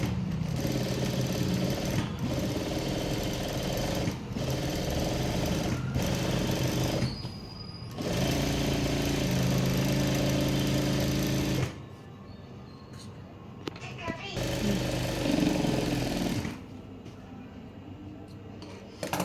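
Sewing machine stitching a shirt patti, loud close motor whir running in long bursts broken by short pauses, then quieter stop-start runs toward the end.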